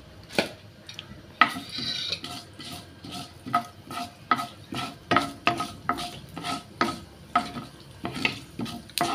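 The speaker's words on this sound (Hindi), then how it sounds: "तेल गरम जालें तशें सांसवां घाता फोण्णां" Mustard seeds popping and sizzling in hot oil while being tempered for batata vada, steady crackle under repeated close scrapes of a spoon against the pan in a regular rhythm.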